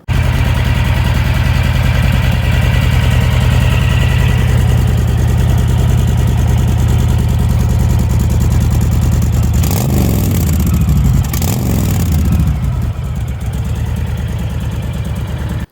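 Honda Fury Japanese chopper motorcycle engine idling with a deep, steady loud rumble, then revving in a couple of sharp bursts near the end before settling back to idle; no talking.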